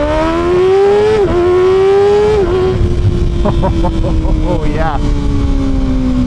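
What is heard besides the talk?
Kawasaki Ninja ZX6R motorcycle accelerating onto the highway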